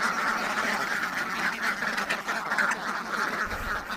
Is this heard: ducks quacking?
yes